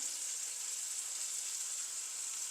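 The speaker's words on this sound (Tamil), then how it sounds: "இப்போ இது ரெண்டையும் சேர்த்து நல்லா கிளறி கொஞ்சம் வதங்கட்டும்." Turkey berries sauté with turmeric in a pan, giving off a faint, steady, even sizzle with no talking.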